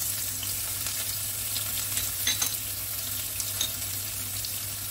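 Shallots and garlic sautéing in a little leftover oil in a Teflon pan, giving a steady, close sizzle with faint stirring clicks and no talking.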